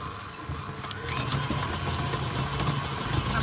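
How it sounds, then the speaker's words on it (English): A stand mixer beats 200 grams of butter for buttercream, giving a steady, loud motor whir with a continuous churning hum that runs throughout without pause. "I put it in the mixer."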